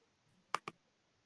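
Two quick, crisp clicks close together, like keys struck on a computer keyboard, alone in an otherwise quiet room.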